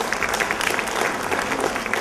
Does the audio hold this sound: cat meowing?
no